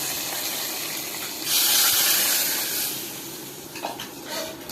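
Hot tempering fried with asafoetida being poured into drumstick and pumpkin sambar, a loud hissing sizzle that flares suddenly, holds for about a second and a half, then settles into softer bubbling and stirring.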